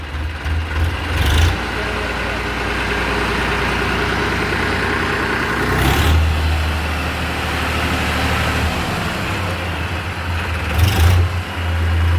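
A Dhiman 5245 tractor engine running in double low gear, a loud close steady diesel rumble that holds through the whole stretch, its pitch shifting slightly at a few gear changes.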